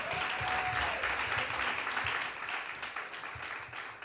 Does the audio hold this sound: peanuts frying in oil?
no